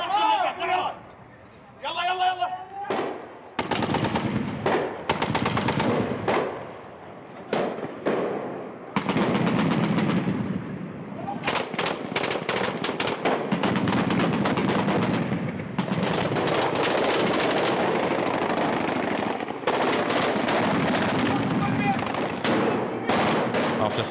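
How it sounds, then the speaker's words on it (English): Massed military gunfire from Iraqi special forces fighting in Mosul, with machine guns and rifles firing a sustained volley of outgoing cover fire in dense, rapid bursts that run almost without pause, loud and close, with shouting voices mixed in. "The battalion unloads all of its weaponry at once. It's a US-style total assault with a volley of outgoing fire"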